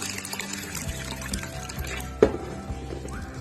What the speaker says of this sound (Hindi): अब इसमें हम पानी डालेंगे।